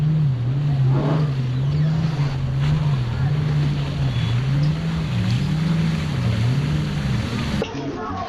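A boat cruising over emerald-green sea water near Phi Phi Don Island, Thailand, heard from the top deck: a steady engine drone with a wavering low hum, wind and water rush throughout, and faint voices in the background.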